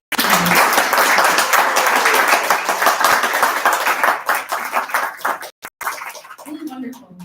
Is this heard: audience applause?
yes